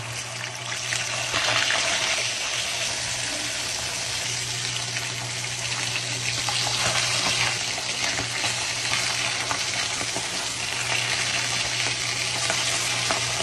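Galunggong fish fry in hot oil, a dense, loud, continuous sizzle and crackle heard close up with a low steady hum underneath, with no talking.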